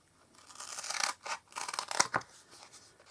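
Ordinary craft scissors cutting paper for a handmade light-up card, a few close crisp snips and scraping cuts in short bursts separated by brief gaps, fairly quiet with no talk.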